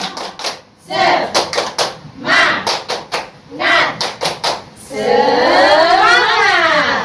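A group performs the Indonesian 'tepuk semangat' cheer clap, likely in a school setting, with bursts of crisp, close hand claps in a set rhythmic pattern, broken by chanted voices and ending in sustained group vocalizing.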